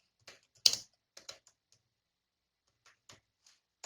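Code being typed on a computer keyboard in a quiet room, sparse clicking keystrokes in short irregular bursts with pauses, one louder clack, close and clear with no talking.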